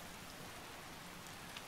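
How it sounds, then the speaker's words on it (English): Modded Skyrim rain near Helgen, a faint, even hiss of falling drops with no voices, holding steady through a short moment. "And it's raining."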